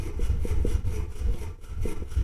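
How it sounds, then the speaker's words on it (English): Aluminum being hand-sanded with sandpaper during a repair, a steady rhythmic back-and-forth scratching close up with no voices. "We're going to take our sanding paper."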